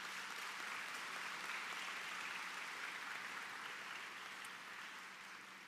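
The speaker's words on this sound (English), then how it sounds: "Give yourselves a round of applause." Applause at a university fall convocation, a faint, even, sustained patter of many hands heard from a distance that fades slightly toward the end.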